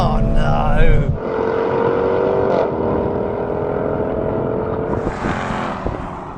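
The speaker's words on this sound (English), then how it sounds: "A 5-litre V8 just about managed to beat a 2-litre 4-cylinder." Two cars drag racing, a Mercedes-AMG A45 S with a 2-litre four-cylinder against a 5-litre V8 Jaguar Project 8, their engines droning loudly and steadily as they accelerate, with a rising pitch change partway through and rushing wind noise near the end.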